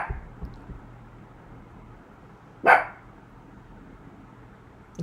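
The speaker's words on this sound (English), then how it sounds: "It's one of those little dogs." A small dog gives a single sharp bark near 2.7 seconds, fairly close and clearly louder than the quiet background hum, with no other barks following.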